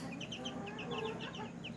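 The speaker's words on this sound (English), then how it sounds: "You're a good rooster." A rooster guarding hens on a farm clucks softly in a steady stream of short, repeated calls, fairly faint against a constant background murmur.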